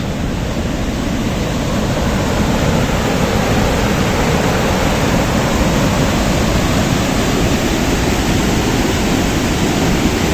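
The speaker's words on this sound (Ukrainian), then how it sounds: "Тут дуже сильна течія, вода зараз висока." The strong, fast current of the Southern Bug river runs high, producing a continuous broadband rush of water that stays loud and steady throughout with no voices.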